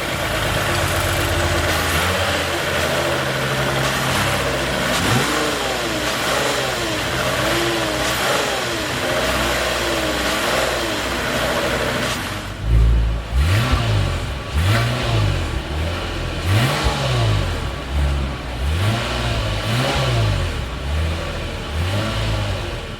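A 2021 Lexus IS 300 AWD with a 3.5-liter V6 runs at a loud, steady idle, then gives a series of sharp, evenly spaced revs in the second half, with no talking.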